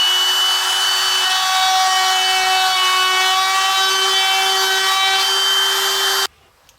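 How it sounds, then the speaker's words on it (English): A router fitted with a 1/8 inch round-over bit edges a 1.5 inch hole in wood, a loud steady high-pitched whine running continuously at close range, then cutting off abruptly near the end. "I'm just going to use a 1/8 inch round over and just clean it up a bit."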